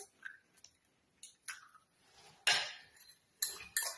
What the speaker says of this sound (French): vous remuez bien jusqu'à ce que le beurre se mélange avec le sucre et l'œuf